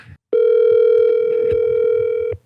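A phone call on a game show gives a single long, steady electronic tone of about two seconds, loud and clear, with faint background sounds around it.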